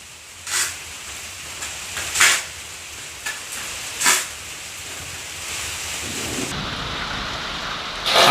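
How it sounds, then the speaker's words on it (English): Steady outdoor rain hisses on surfaces throughout, broken by several short, sharp bursts and a louder rush near the end, with no talking. "it's starting to rain again"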